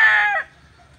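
A single rooster crow, loud and close, cut off after about half a second, followed by quiet background.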